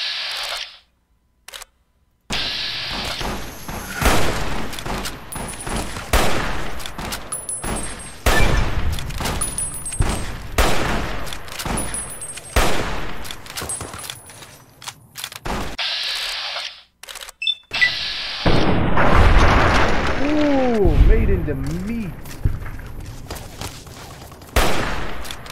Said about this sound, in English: Oh god, Stella fucking exploded.